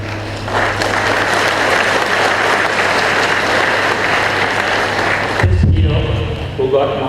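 Sustained audience applause fills a hall at a Kargil valor tribute in Kohima, dense steady clapping for about five seconds that stops abruptly, followed by low room noise.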